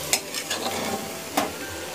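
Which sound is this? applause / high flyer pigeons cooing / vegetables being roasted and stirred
vegetables being roasted and stirred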